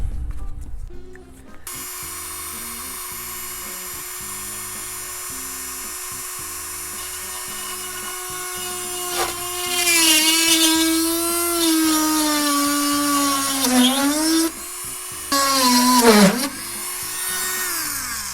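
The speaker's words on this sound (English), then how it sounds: "Now we're going to drill those out." A small power drill whines steadily at close range, drilling holes in a model airplane's firewall, its pitch dipping and surging a few times near the end as it bites into material.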